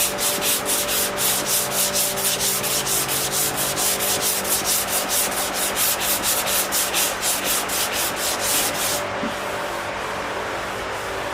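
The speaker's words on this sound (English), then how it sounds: "get a block sander and start sanding it" A block sander with 220-grit paper works over a Dodge Charger body panel in steady back-and-forth strokes, a continuous close scratchy rasp that stops near the end.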